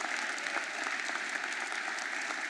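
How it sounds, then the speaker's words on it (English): An inauguration crowd applauds Congressman Dwight Evans at Mayor Cherelle Parker's swearing-in, a dense, even wash of clapping from many hands, somewhat distant and continuous throughout. "Give him a huge round of applause."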